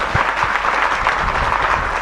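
Devotees at a spiritual gathering clap their hands together in a loud, continuous round of applause, dense and close, with a few low thumps underneath and no speech.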